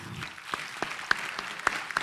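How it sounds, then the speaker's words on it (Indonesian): Studio audience at a televised Indonesian talk show claps, with scattered sharp hand claps building into a steady round of applause that is moderately loud and close. "kasih tepuk tangan dong untuk semuanya"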